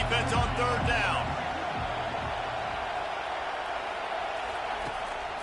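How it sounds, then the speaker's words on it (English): A virtual stadium crowd roars in College Football 25 during a USC vs Virginia Tech game, a steady loud wash of cheering noise with a few louder whoops early on. "Decibels rising as the crowd gets behind this defense on third down."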